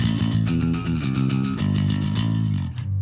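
A bass guitar played through a compact valve pedalboard plays a gritty, overdriven riff with a thick distorted tone, notes rolling along steadily and loud.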